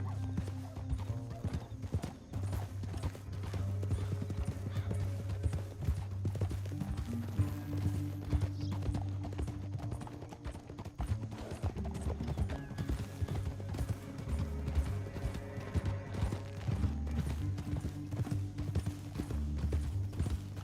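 In the Red Dead Redemption 2 video game, horses gallop through a canyon, their hoofbeats drumming steadily and continuously over a low, sustained musical drone, with an occasional snort.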